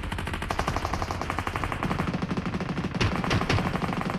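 Automatic gunfire in the mobile battle-royale game PUBG Mobile rattles in rapid, continuous bursts, loud and close throughout with heavier shots near the end, and no talking over it.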